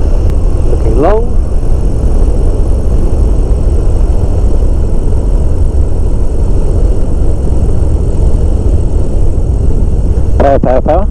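Flexwing microlight aircraft on a landing approach to a runway, a loud, steady engine drone and wind rush throughout, with brief voice-like bursts near the start and end.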